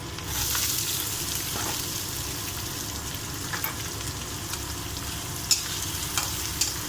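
Onions and curry leaves fry steadily in hot oil for cauliflower fry, a continuous close sizzle with a few soft clicks of a stirring spoon and no voices.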